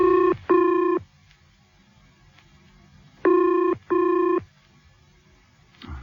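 A telephone rings in an old-time radio drama, two paired bursts of a bright electronic double ring separated by a short pause, close and clear over a quiet, hissy background.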